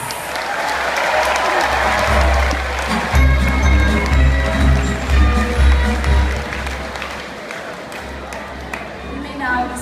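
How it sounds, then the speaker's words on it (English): Graduation ceremony audience applauding graduates: sustained crowd clapping with a low rhythmic thumping underneath, occasional voices, and the applause swelling and fading slightly over about ten seconds. "Everyone, please give our graduates a big round of applause."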